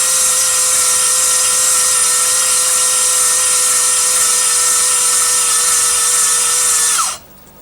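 Cylinder hone running in a Rotax engine bore, a loud steady high-pitched whir with a ringing metallic tone that holds for about seven seconds before spinning down and cutting off abruptly.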